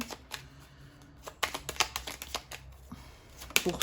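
Tarot cards being shuffled for an astrology reading: soft riffling and flicking bursts, close and fairly quiet, with irregular clusters of card snaps separated by brief pauses and no voices.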